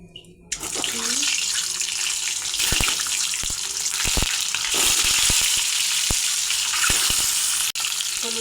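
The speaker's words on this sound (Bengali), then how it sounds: "এখন ডিম ভেজে নেব।" Duck eggs frying in hot mustard oil in a pan, a loud, steady sizzle that flares up as they hit the oil and continues with small pops and clinks.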